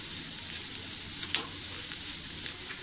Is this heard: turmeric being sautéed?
yes